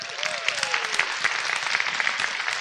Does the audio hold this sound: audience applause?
yes